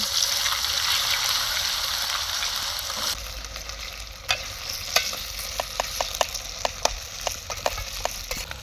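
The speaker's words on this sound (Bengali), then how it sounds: "তেজপাতা দিলাম কাঁচা লঙ্কা দিলাম আলুগুলোকে ভেজে নেব" Potatoes fry in hot oil with bay leaf and green chili for an Indian aloo posto, a steady loud sizzle that drops sharply partway through, followed by scattered stirring clicks and taps against the pan.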